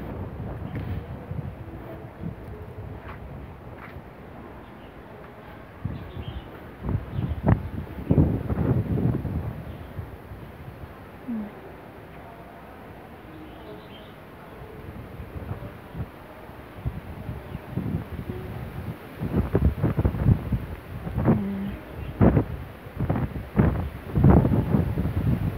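Strong typhoon wind under a signal number 8 warning gusts and buffets the microphone in uneven, rumbling surges that swell and fade, with no talking.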